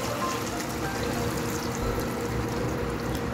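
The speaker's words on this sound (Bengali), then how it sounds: "এক কাপ নারকেলের দুধ দিয়ে দিলাম।" A cup of coconut milk poured into chicken malai curry in a pan, a steady liquid pour with a continuous gurgle, close and fairly loud throughout.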